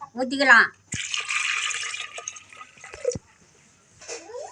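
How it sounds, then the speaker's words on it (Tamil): Water is poured into a cooking pot of chili powder and spices for a drumstick fry, making a steady splashing stream for about two seconds, with brief voice sounds before and after. "தண்ணியே தேவையான அளவு ஊற்றிக்கலாம்."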